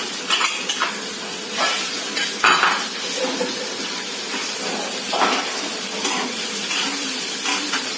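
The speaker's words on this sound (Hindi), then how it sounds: "रेड पेपर डालेंगे, उसके बाद ग्रीन पेपर और येलो पेपर डाला, फिर हम मटर डालेंगे" Red, green and yellow peppers and peas are stirred in a pan for a Jain stuffing, giving repeated metal scrapes and clinks of a spoon over a steady sizzle, close and fairly loud with no talk.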